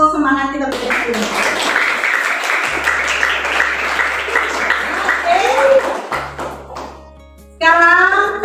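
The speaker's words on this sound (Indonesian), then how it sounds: "Kita tepuk tangan untuk semangat kita bersama." A group of teachers or students in a classroom claps together in a sustained round of applause, dense and steady for several seconds, with voices and music around it.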